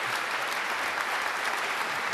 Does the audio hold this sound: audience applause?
yes